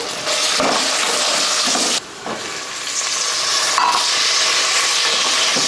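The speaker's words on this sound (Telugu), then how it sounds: "కొంచెం అల్లం వెల్లుల్లి పేస్ట్ కూడా వేసుకుని మంచిగా వేయించుకోవాలండి" Onion with ginger-garlic paste frying in a pan, giving a steady, close sizzle and hiss with brief stirring scrapes and one short dip partway through, no voices.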